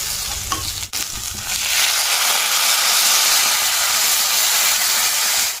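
A pan of okra and potato curry sizzles and bubbles steadily after water is added, a dense close hiss with a brief knock near the start and no voices.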